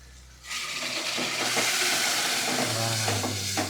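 Cooked moong dal poured into a hot tempering, bursting into a loud, steady sizzle and steaming hiss that starts abruptly and carries on without letup, with no talk over it.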